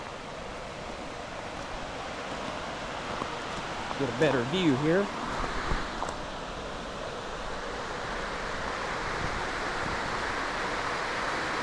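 Creek water runs in a steady broadband rush beside Porters Creek Trail, a continuous wash heard up close, with someone briefly talking over it partway through.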